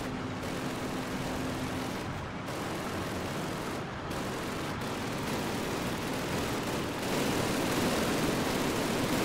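Gunfire from the Call of Duty campaign on Veteran difficulty, heard as a continuous rumbling barrage of distant shots under a wash of noise, with a few sharper bursts punctuating the steady din.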